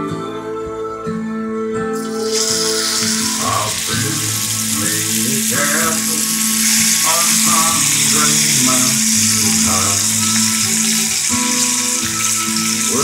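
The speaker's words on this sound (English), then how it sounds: "we're gonna sear it in the pan" Peppered deer meat hitting a hot pan and searing with a loud, steady broadband sizzle that starts abruptly after a couple of seconds and continues close by, with tonal background sound underneath and no clear talk.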